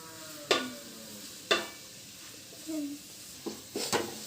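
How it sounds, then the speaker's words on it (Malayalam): Sliced onions and green chillies fry in oil for a Kerala-style crab roast. A spoon scrapes the pan in several sharp, close strokes over a low, steady sizzle. "ഉള്ളി ഗോൾഡൻ കളർ ആവണ്ട ഒരു ബ്രൗണിഷ് ഗോൾഡൻ കളർ ആവുന്ന വരെ ഈ പച്ചമുളക് ഒന്ന് മാറുന്ന വരെ നമുക്കൊന്ന് ഇളക്കി കൊടുക്കണം"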